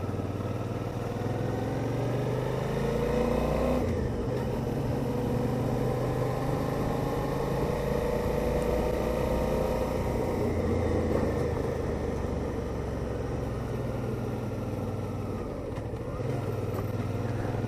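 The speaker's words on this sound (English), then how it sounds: "the delightful V-twin engine" Suzuki V-Strom 650 V-twin motorcycle engine under way on a Lake District mountain pass, a steady, loud low throb with wind rush that dips briefly as the revs shift, then carries on without any talk.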